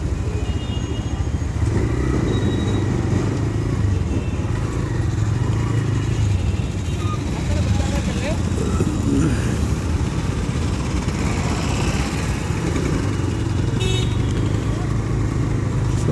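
A motorcycle rides along a road in pleasant weather, with a constant low engine rumble and heavy wind buffeting heard up close from the rider's position, plus faint passing traffic throughout.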